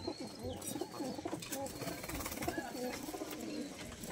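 Madrasi pigeons of an old Kaldom/Nafta bloodline in a loft, giving soft, repeated throaty coos, faint and steady against low background noise.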